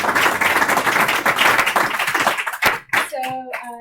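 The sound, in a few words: audience applause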